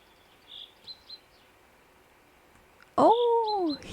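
A single bird in a video game gives a few faint, high chirps, followed by a sudden loud, close call with sweeping tones that fade away.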